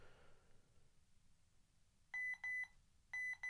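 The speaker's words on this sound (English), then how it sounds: "This could act as your alarm clock sat by the side of your bed." An Amstrad NC100 notebook computer sounds its built-in alarm through its small speaker: two pairs of short, bright, identical electronic beeps, clean and loud against a quiet room.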